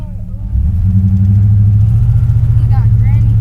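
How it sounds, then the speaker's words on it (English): A custom 1952 Chevy's engine rumbles and revs while driving, a loud, close, steady low drone that rises after a moment, with a voice talking over it. "Dang, you driving that fast car."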